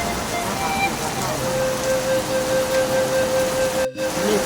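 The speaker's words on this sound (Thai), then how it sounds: "โอ้ฝนตกแรงขนาดเลยนี่กทมเนาะ" Heavy rain pours in Bangkok as a dense, steady hiss close by, loud and unbroken apart from a brief dropout near the end.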